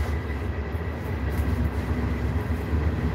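A train rolling along, with a continuous loud low rumble and rattle that stays steady throughout, alone without speech.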